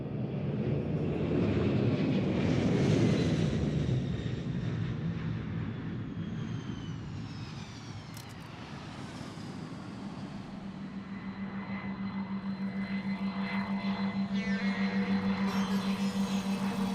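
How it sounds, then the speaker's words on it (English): An airplane bound for Uluwatu in Bali roars with a broad, rushing engine noise that swells and eases, then settles into a steadier hum carrying a sustained droning tone. "The plane lands there"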